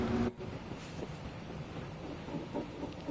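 A European freight train rolls steadily through Bremen-Oldenburg in Train Sim World 5, its continuous low rumble and faint wheel rattle filling the scene at an even level after a brief quieter gap at the start.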